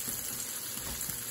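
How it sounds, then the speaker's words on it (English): A kitchen tap runs while squash is rinsed, a brief steady gush of water close by with a bright hissing spray, no voices over it. "So, let me wash them out."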